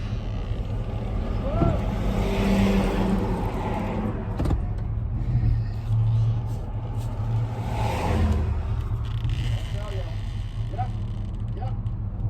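A camper van that had been broken down drives under its own power on a city street. The engine hum is moderate and steady, with a couple of brief rises in revs. Light background noise runs beneath it.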